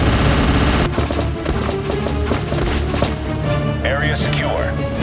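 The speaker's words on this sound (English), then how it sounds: "Open fire!" Gunfire in an action scene, a dense rapid rattle of automatic shots mixed with a loud music score and other effects, continuous and close.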